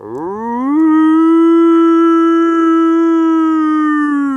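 A person imitates a wolf howl by calling through an empty Parmesan cheese can used as a megaphone: one long, loud, sustained rising-then-level tonal howl, close and alone, fading slightly at the end.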